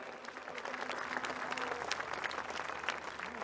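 Sustained applause from an audience at a political speech in Armenia, a continuous patter of many hands at moderate distance, fairly quiet overall and without any voice over it.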